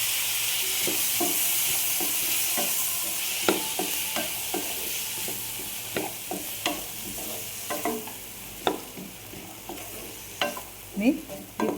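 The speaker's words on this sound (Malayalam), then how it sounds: "ഇതിലേക്ക് നമ്മൾ അരിഞ്ഞു വെച്ചിരിക്കുന്ന കൂർക്ക ഇട്ട് കൊടുക്കാം." Chopped Chinese potato (koorka) frying in a pan with chili and turmeric powder for a thoran, giving a steady close sizzle with repeated scraping stir strokes that grow more frequent toward the end, with no voices.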